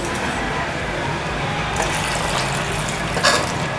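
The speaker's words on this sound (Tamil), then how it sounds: "இது முழுகிற அளவுக்கு தண்ணி" Water runs steadily into a cooking pot, a continuous splashing pour with a brief louder gush near the end.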